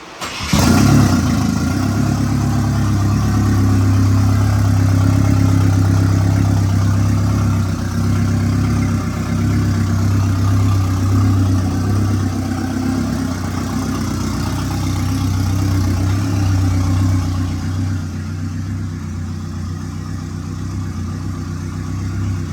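A Nissan S13 coupe engine running with an open downpipe, a loud, deep, steady idle drone starting abruptly and holding throughout, easing slightly toward the end.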